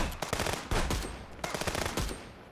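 Gunfire in the Contraband Police video game comes as a rapid run of loud, close shots, roughly a dozen sharp cracks in quick bursts with brief gaps between them. No one talks over it.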